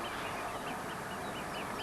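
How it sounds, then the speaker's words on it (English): A chicken clucks in a series of faint, repeated rising calls at a fishing lakeside, set against a constant wash of outdoor background noise. "Chicken."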